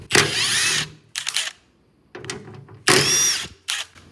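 Power driver backing out 1/4 inch screws from the gas tank sending unit of a 1969 Ford F100 in a shop, in several short whirring bursts separated by pauses and clicks.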